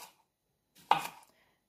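A knife cuts a cucumber into wedges on a board, one short crisp chop standing out after a faint earlier tap, close and otherwise quiet.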